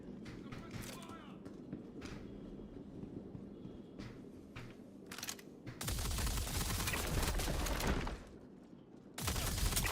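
Suppressing gunfire in the video game Star Citizen: scattered individual shots early on, then two loud sustained bursts of rapid fire, with voices speaking between the shots.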